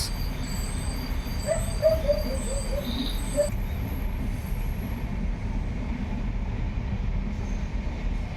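An electric train rolls steadily past, its wheels rumbling continuously with a brief, faint squeal of the wheels early on. The broad, even roar stays close and loud throughout, with no voices heard.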